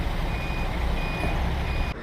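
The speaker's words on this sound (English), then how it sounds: "When you put the indicator on this, there's a little beeping sound." A thin, steady electronic indicator beep from a retro 125cc scooter repeats at a slow, even pace over a loud, rumbling engine and road noise, then stops near the end.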